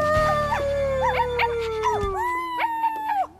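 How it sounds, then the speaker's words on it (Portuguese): Several dogs howl together in long, wavering, sing-like tones, overlapping loudly with yips mixed in, over a low rumbling background. "Eu e meus cachorros cantores vamos ficar famosos!"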